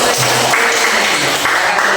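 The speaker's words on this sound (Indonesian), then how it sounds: "Oke, tepuk tangan dulu" A classroom of students clapping together during a practice teaching lesson, a short dense burst of hands close by with a little speech mixed in.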